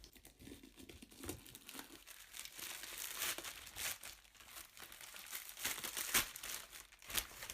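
Thin foil seal from a large bottle of frying oil being crinkled and crumpled by hand, a close, continuous run of crackles with sharper tearing snaps throughout, no talking.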